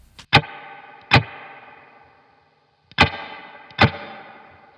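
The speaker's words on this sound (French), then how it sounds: "Généralement, je le laisse tout le temps allumé pour avoir la Spring de l'ampli plus cette Spring là, donc ça donne ça." An electric guitar played through a Strymon spring reverb pedal stacked with the amplifier's own spring reverb, giving four loud strummed chords in two pairs, each ringing out with a long, splashy spring-reverb tail.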